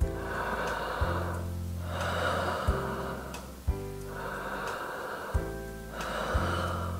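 Slow, deep breaths in and out repeat in a steady rhythm, each long airy inhale and exhale clearly audible and close, demonstrating belly breathing for singing practice.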